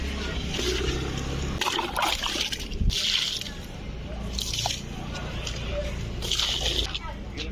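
Anaerobic compost tea made from kitchen waste is poured onto tomato plants in a garden, giving wet sloshing and splashing bursts with drips. Someone talks throughout.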